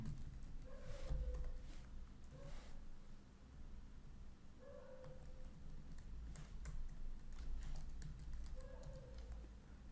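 Numbers are typed on a computer keyboard in short bursts of light clicks, fairly close but soft, over a steady room hiss with faint chirps in the background.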